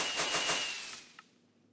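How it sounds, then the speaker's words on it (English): A rapid crackling burst of small explosions from video game firecrackers in Minecraft, fading out after about a second with one last pop. "these are all firecrackers"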